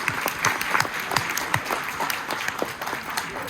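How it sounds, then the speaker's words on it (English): An audience at a school board meeting claps steadily, many hands close together in a lively, continuous round of applause. "so you all deserve a big round of applause"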